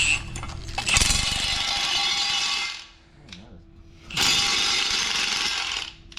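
Spacers being bolted on tight to a square-tube bracket with lock washers, a loud mechanical ratcheting and whirring from a power tool in two long bursts, close up with a short pause between.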